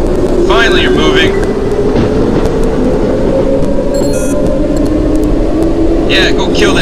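In the horror video game Cry of Fear, a train rolls through a tunnel with a loud, steady, rumbling drone, and brief metallic squeals rise above it near the start and the end.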